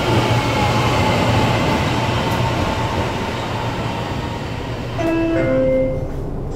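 A metro train on a Kuala Lumpur rail line, heading toward Bukit Jalil with Pudu as the next station, rumbles steadily from inside the carriage, with a continuous low roar of wheels on track and a brief rising squeal of wheels near the end, no talking.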